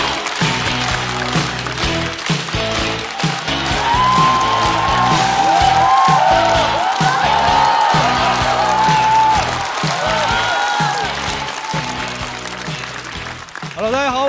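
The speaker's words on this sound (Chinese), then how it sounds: "掌声欢迎雪冰" An audience at a stand-up comedy show applauds to welcome a comedian: loud, continuous clapping with some cheering for most of the stretch, mixed with music and a voice talking over it.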